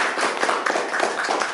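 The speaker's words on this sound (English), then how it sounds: "So let's give her a round of applause." Applause from a lecture audience at a talk on the Lynas and bauxite mining issues in Malaysia, a short burst of steady, moderately loud clapping from many hands.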